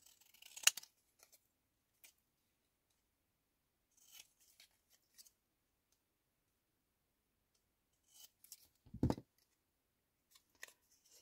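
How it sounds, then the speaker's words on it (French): Scissors snip a small decorative shape out of paper during a scrapbooking session, giving a handful of faint, sparse clicks and cuts spread over near silence. "Là, juste pour le fun, je vais faire une petite découpe."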